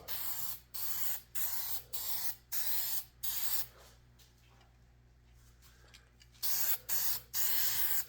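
Spray paint hisses onto a guitar body in close, even bursts of about half a second each, a quieter pause in the middle, then more bursts.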